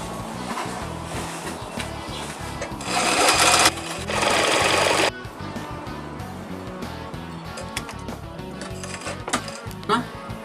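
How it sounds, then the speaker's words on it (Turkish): A sewing machine stitches through stiff fabric for a seat-back organizer in a workshop, a rapid mechanical whirr in short bursts with louder stretches and brief pauses. "Şimdi makinasını çekeceğim."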